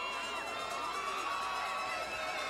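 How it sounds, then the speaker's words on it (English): Crowd at a 2005 Lakeland Dreadnaughts high school football game, a steady distant roar of cheering and shouting with no break. "The Dreadnought crowd coming to life."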